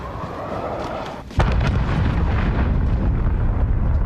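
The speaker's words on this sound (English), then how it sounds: "Allied cruise missile on the way." A cruise missile explosion in Call of Duty Modern Warfare hardcore multiplayer, a sudden deep boom that cuts in after a brief dip and rolls on as a loud, sustained rumble.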